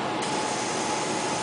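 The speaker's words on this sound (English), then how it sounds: "Spray a little bit," REM oil sprayed from an aerosol can onto a paintball marker, one continuous close hissing spray lasting the whole moment, without talk.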